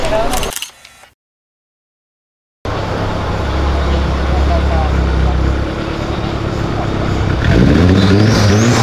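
A turbocharged Chevrolet Vectra drives past on a road, a loud sustained engine roar after a brief silence, building slightly toward the end, with people talking over it.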